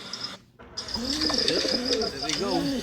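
Homing pigeons coo outdoors at a Christmas Eve bird auction in the Bronx, soft repeated coos heard close over a steady background hiss, with a brief dropout near the start.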